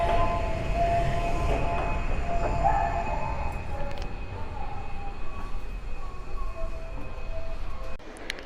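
A Tokyo subway train rumbles along with steady wheel noise, faint squeals and brief tonal whines, heard from inside the car.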